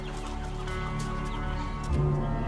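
Chickens cluck steadily and close by in a farm setting, a continuous chorus of hen calls with one louder cluck near the end.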